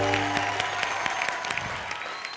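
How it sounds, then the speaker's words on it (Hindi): A studio audience at a TV comedy show claps steadily and loudly for about two and a half seconds, a dense wash of many hands with a low hum underneath and no voices. "तालियां"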